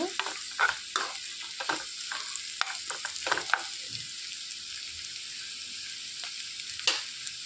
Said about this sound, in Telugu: పచ్చి వాసన పోయేంత వరకు వేయించుకోవాలండి అల్లం వెల్లుల్లి పేస్ట్